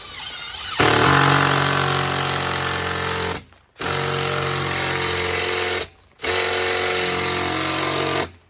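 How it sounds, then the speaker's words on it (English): A cordless power tool drives lag bolts through a wall-mount bracket into a wall, whirring and hammering loudly and close in three long bursts separated by brief pauses. "The battery wants to die as I'm doing the lag bolts"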